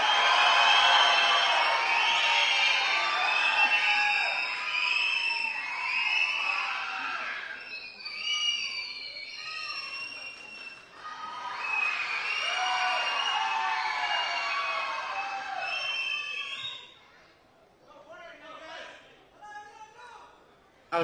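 A large crowd cheers and shouts loudly at a Tamil film audio launch as director Vetrimaaran is welcomed on stage, in sustained waves that fade toward the end.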